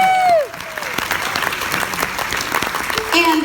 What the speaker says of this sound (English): would you just put your hands together